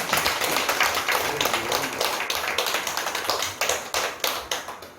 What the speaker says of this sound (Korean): 박수 한번 나와야 되지 않습니까?